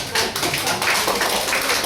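Clapping from a small audience at a puppet show, a steady patter of hands lasting a couple of seconds, moderately loud and unbroken.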